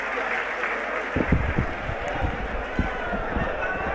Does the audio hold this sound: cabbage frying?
no